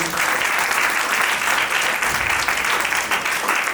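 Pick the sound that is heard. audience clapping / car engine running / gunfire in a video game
audience clapping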